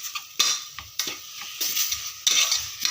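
Goat trotters being sautéed in a pan, with a utensil repeatedly scraping and clinking against the metal over a faint sizzle, in a few distinct strokes.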